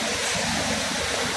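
Rushing water from a waterfall on an afternoon outing, a steady broadband roar of falling and splashing water that fills the whole moment without letting up, close by and continuous, with no voices or other distinct sounds rising above the flowing noise.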